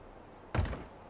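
A door being placed in a Fallout 76 camp build, one short soft thunk halfway through, faint and close, otherwise near silence.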